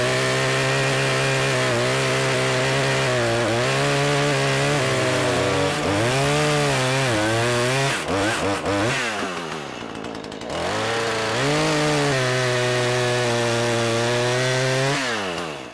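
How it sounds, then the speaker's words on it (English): A chainsaw with a dull chain cuts wood, its engine droning loudly and continuously with repeated rises and dips in pitch as it bites into the material, close and alone with no voices. "As you can see, I have lots of control with the chainsaw. It removes this material really quickly."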